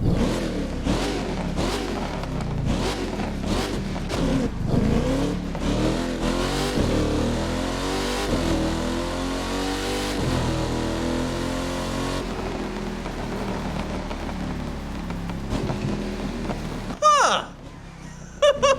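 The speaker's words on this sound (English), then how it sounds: "This thing's known for having a crazy engine sound in the game, though." A widebody 1000 hp Ford Mustang Shelby GT500 with a carbon fiber rear wing revs and accelerates in the racing game The Crew 2, with its engine pitch rising and falling through gear changes and someone talking over it.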